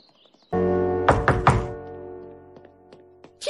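Three firm knocks on a wooden door, close and dull, in a quick even burst after a low sustained musical tone, followed by fading ringing and a few faint taps.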